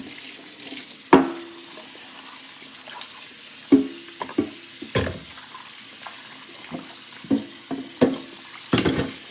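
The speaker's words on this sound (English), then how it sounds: "Rinse them off." A kitchen tap runs steadily while cut pieces of starchy food are rinsed under it, with occasional knocks and clunks against the sink, close and moderate in level with no talk.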